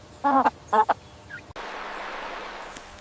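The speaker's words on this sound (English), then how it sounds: "This is a hen." Two quick pairs of nasal, clucking calls from a hen, close and clear, followed by a steady hiss of background noise.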